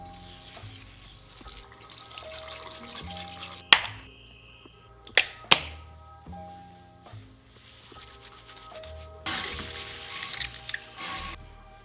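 Water running into a basin while hair is washed with rose shampoo, a soft steady tap flow with a few splashes and sharp knocks midway and a brighter gush near the end, close and fairly quiet, with no talking.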